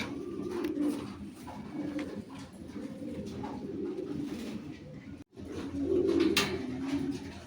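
Lahori pigeons coo at a farm, a soft, continuous murmur of low repeated coos from several birds, faint and fairly close, with one brief dropout partway through.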